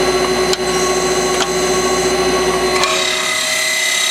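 Steady whine of a Citizen L16 CNC Swiss lathe spindle heard up close, with a few brief clicks as the spindle stops and the machine indexes.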